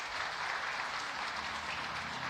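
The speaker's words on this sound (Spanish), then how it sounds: "Demos un aplauso a los papás" A church congregation applauds for the parents, a steady wash of clapping at moderate, fairly distant level lasting the whole moment.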